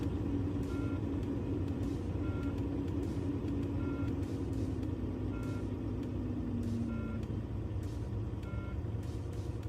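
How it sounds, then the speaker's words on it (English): Truck engine idling steadily during an air compressor pressure buildup check, a continuous close rumble with faint periodic beeping over it and no speech. "For that, we will start the truck."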